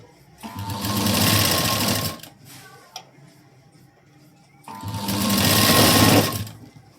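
A sewing machine stitches down the center of folded fabric piping in two sustained, loud runs of a few seconds each, separated by a quieter pause with faint handling.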